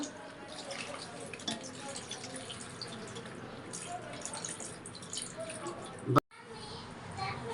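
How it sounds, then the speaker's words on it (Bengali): Water swirled around inside a wok makes a continuous soft sloshing and dripping wash, close and fairly quiet, with a sharp click near the end followed by a brief drop. "এইভাবে পানিটা কড়াই ঘুরাবো।"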